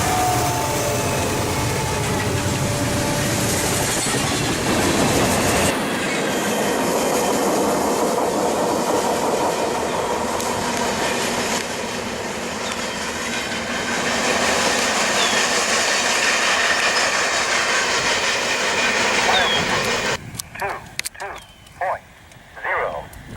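A long CSX freight train rumbles steadily past at close range on the Mohawk Subdivision with rolling wheel noise and rhythmic clacking over rail joints, fading into uneven thumps near the end.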